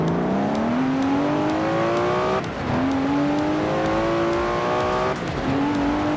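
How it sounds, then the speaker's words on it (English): A modified Datsun engine in Forza Horizon 4 revving hard and climbing through the gears, three rising pitch sweeps broken by quick shift dips, loud and close with a raspy exhaust tone. "Never heard a Datsun sound like that, have you?"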